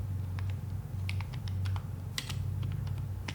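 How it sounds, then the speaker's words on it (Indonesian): Typing on a computer keyboard, a quick run of light key clicks close by over a steady low hum, no one speaking. "Jadi kita ketik misalkan Laravel"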